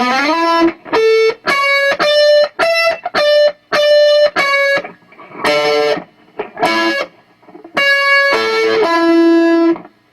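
Electric guitar plays a lead break slowly, with distorted, harmonically rich sustained notes in separate phrases and short gaps between them, close and loud with no talking.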